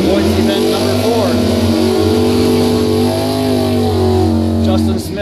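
A 1993 Mustang drag car with a 302 Ford V8 revs loudly and continuously at a bracket final, a deep rumbling idle with rising throttle blips, heard up close under a voice talking.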